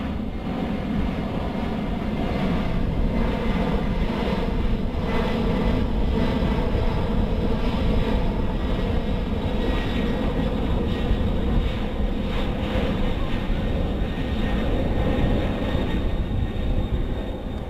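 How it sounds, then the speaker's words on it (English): A military transport aircraft flies overhead during a paratrooper airdrop exercise. Its engine drone is a loud, steady, broadband roar that holds constant throughout. "Aircraft carrying paratroopers are approximately 3 minutes out at this time."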